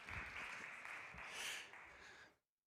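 A conference audience applauds to welcome a speaker at a clean code talk. Soft, even clapping carries on for about two seconds and then cuts off abruptly.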